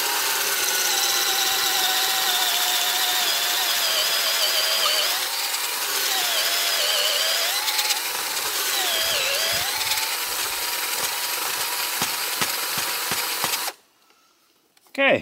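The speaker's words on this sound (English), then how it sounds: "So I just drill the hole." A power drill whines steadily at close range, drilling a tap hole into a maple tree, its pitch dipping and rising as it bites, then cuts off abruptly into near silence.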